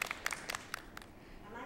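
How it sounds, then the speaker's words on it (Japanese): Older students at a small rural elementary school entrance ceremony give warm applause to two new first-graders, a brief burst of scattered claps that fades out, with a voice speaking over it. "上級生たちも温かい拍手を送り"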